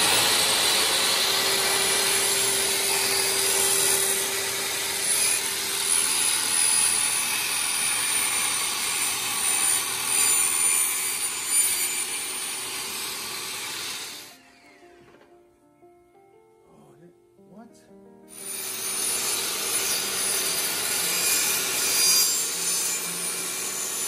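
A saw cuts through a long piece of wood on the ground with steady, loud, continuous strokes. It stops briefly partway through, then carries on cutting.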